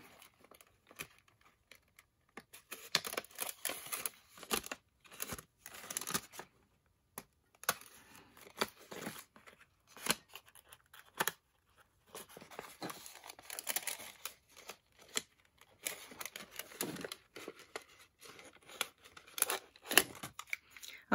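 Scissors snip repeatedly through paper while trimming pages for a traveler's notebook, giving close, irregular cutting clicks and rustles with short pauses between cuts.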